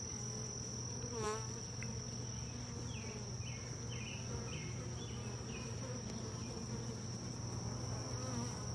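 Honeybees around an opened hive comb, a constant close insect drone with high buzzing and a few sharper passing buzzes over a steady low hum, no talk.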